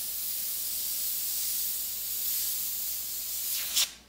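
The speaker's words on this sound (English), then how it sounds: "the airbrush is spraying well" A steady, airy hiss of an airbrush spraying paint continuously, sputtering from a buildup in the fluid nozzle, ending with a brief sharper burst of spray.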